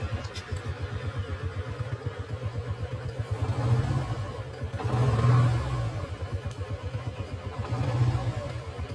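A Yamaha TMAX 530 scooter engine runs after startup with a rhythmic, distorted low chugging pulse that swells slightly in a few places, close and loud.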